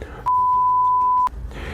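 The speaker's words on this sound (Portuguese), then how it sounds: "Infelizmente o YouTube não permite palavrão, então espero ter colocado aí um bip." A single loud, steady censor bleep tone lasts about one second, cutting over a swear word in a Portuguese discussion of Kill Bill, with faint background sound before and after.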